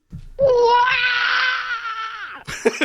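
A person lets out a loud, sustained scream lasting about two seconds, cut off by a quick burst of talking.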